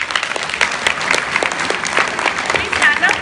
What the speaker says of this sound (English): Please clap for each other.